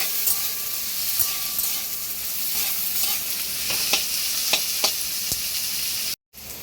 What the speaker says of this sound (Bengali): গাজর আর বিনসটা কিছুটা ভাজা হয়ে গেলে